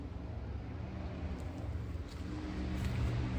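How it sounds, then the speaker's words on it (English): A car passes on a nearby road beside a garden, a steady low rumble that holds through the clip and swells slightly toward the end. "The car driving by."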